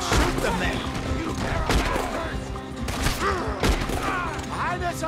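Gunfire in the Red Dead Redemption 2 video game: repeated sharp shots and thuds in a busy firefight, mixed with game music and characters shouting throughout.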